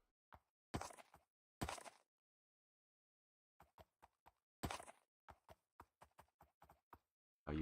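Footsteps of a horse in Minecraft, a series of short hollow clip-clop knocks spaced irregularly, some louder and nearer, over silence with no talk.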